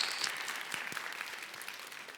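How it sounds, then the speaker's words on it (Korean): An audience at a lecture on AI semiconductors and startups applauds, a continuous hiss of many hands clapping at moderate distance, fading slightly over about two seconds. "역시 아무렇지도 않게 박수 쳐주시면 됩니다."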